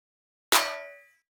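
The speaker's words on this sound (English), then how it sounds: "So the snare on its own sounds like this." Single layered metallic snare drum sample struck once, a sharp bright clanging hit with a ringing tail that fades out within about half a second, alone in silence.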